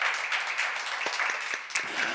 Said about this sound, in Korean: 박수로 하세요.